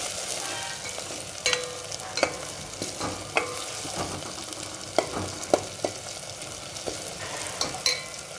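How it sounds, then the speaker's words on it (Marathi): Onion and tomato fry in a pan for a dry potato bhaji, giving a steady close sizzle with repeated sharp spoon scrapes and knocks against the pan throughout, no voices. "चांगलं तळून घ्यायचं कांदा, टोमॅटो।"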